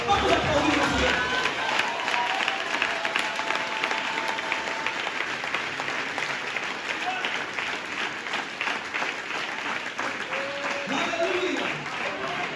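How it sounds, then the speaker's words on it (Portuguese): A church congregation applauds the Lord during a service, steady dense clapping from many hands that fills the room evenly and continues unbroken from start to finish. "Vamos aplaudir o Senhor."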